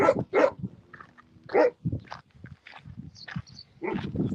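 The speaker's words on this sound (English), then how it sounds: "He's not a very good guard dog." A chained guard dog in rural China barks several times in short, loud bursts close by, with brief gaps and some shuffling movement between the barks.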